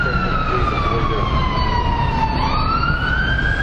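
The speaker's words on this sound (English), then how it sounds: "Why does the siren start whenever I stop filming?" An emergency siren passing on a London street, a loud wailing tone that sweeps slowly down and then rises again over steady road traffic rumble.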